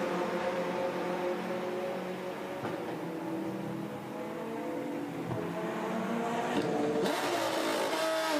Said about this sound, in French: La Porsche numéro 99 repart.